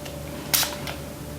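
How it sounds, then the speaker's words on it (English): Setting spray is spritzed onto a makeup brush in two quick, faint hissing bursts a moment apart against a quiet room. "Have you ever sprayed a brush with setting spray or something"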